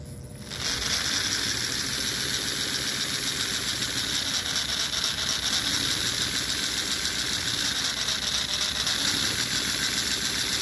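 An electric motor driven by an ESP32-based wireless controller spins up and runs at roughly half speed, giving a continuous buzzing hum with a rhythmic mechanical clatter underneath, close by and without speech.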